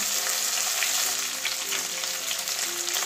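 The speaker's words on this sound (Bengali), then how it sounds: "ফুলকপি ভাজা হয়ে গেছে, যে লাল লাল করে ভেজে নিয়েছি" Cauliflower frying until reddish in a pan gives a loud, steady, close sizzle with dense crackling and occasional stirring scrapes, no voices.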